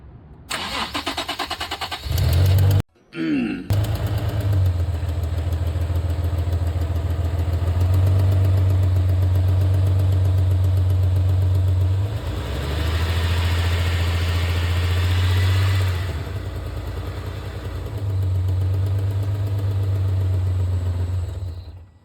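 A supercharged Nissan 370Z engine with a cracked exhaust header starts and settles into a steady, loud idle with a ticking, rough exhaust note, revving up briefly a few times.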